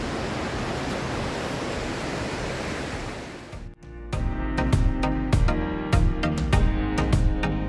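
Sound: waves on Padukere beach

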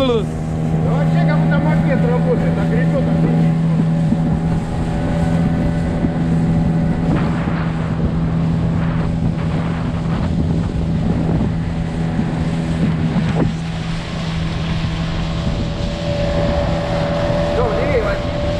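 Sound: boat motor running on water

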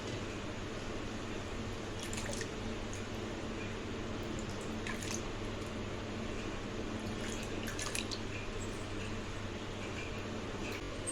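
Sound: washing potatoes in water

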